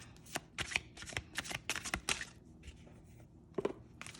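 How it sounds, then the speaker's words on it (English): A deck of cards is riffle-shuffled up close, a rapid flurry of crisp flicks followed by a brief pause and a final short burst. "if you're shuffling like this, they're going to rub up against each other"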